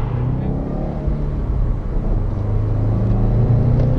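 A 2015 Subaru WRX STi accelerates at half throttle, giving a steady, close engine rumble and drone that builds slightly in loudness over a few seconds, with no talking.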